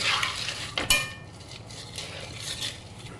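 Chickpeas roasting in ghee in a pan, stirred with a utensil: steady soft sizzle with scraping strokes and a sharp clack of metal on the pan near the start.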